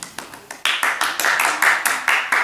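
A small group claps in a regular rhythm during a rehearsal, starting with a few scattered claps before settling into loud, evenly spaced claps about four per second.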